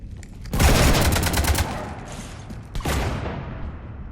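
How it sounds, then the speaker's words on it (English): Rapid gunfire strafes a ship during a Mass Effect battle, with a dense burst of quick shots, a short pause, then another loud volley that trails off into echoing mechanical noise. "You want to stop shooting up my ship?"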